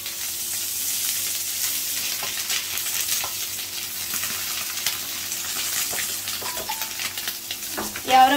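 A steak fillet and mushrooms fry in a pan with a steady, close sizzle and crackle, occasional stirring scrapes and a brief clatter at the end.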